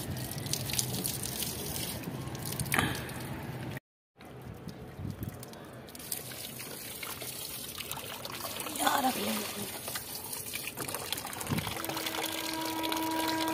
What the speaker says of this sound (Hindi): देखिए इसमें पानी भर देती हूँ